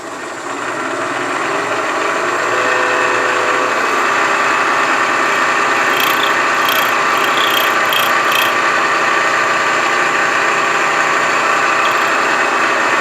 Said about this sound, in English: We're ready to take the first cut.